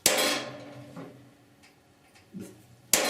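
Hammer blows on a traditional center punch set against thick metal while repairing a severely rusted core support on a 1969 C10 truck; two sharp, loud metallic strikes ring out close by, one at the start and one at the end, with quieter taps between.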